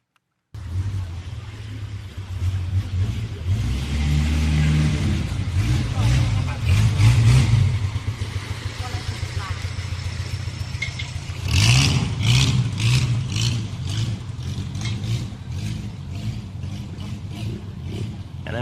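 A wooden motor boat at Angsila, Thailand, moving toward the viewer gives a steady mid-pitched engine drone with surging revs, heard beneath someone talking.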